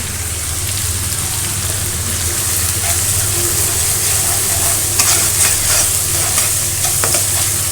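Cumin paste, garlic paste and salt frying in hot oil in a pan, giving a loud, continuous sizzle with some stirring and crackle, close up and without talk.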